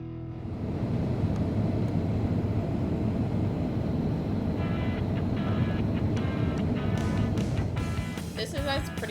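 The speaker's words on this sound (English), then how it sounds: "This is us pretty much landing in the Newark airport." Inside a passenger airplane landing at Newark airport, a loud steady cabin roar of engines and airflow fills the whole stretch, with faint muffled voices and light rattles toward the end.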